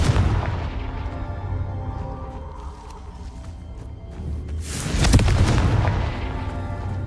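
Confringo blasting spell detonating in the Hogwarts Legacy game: deep booming explosion that rumbles on, followed by a second louder blast near the end, with no talk.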